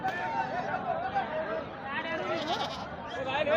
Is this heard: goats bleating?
yes